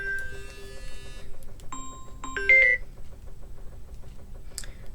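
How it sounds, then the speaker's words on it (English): A mobile phone rings with a short series of electronic beeps and chiming tones at moderate distance in a quiet indoor room. Faint background hum sits underneath, and no one talks. "My phone is ringing, bear with me."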